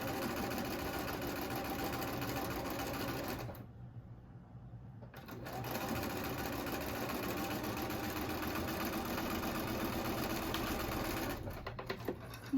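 Sewing machine chain piecing quilt block rows for a beginner Monkey Wrench block, running in a steady close whir that stops briefly in the middle and then resumes, with a short hitch near the end.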